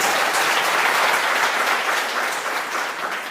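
Warm audience applause for students after a cultural dance performance at an event on under-utilised crops, a dense, steady wash of many hands clapping at full volume throughout, easing slightly near the end.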